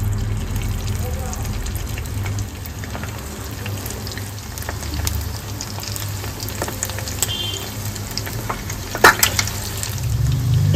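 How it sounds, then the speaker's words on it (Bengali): Egg 65 pieces frying in hot oil over low heat, a continuous close sizzle and crackle with occasional sharper pops, while a person talks over it. "দেখুন আমি এগুলো ছেড়ে দিয়েছি তেলের মধ্যে। এরপরে আমি এগুলোকে ভালো করে ভেজে নেবো লাল লাল করে।"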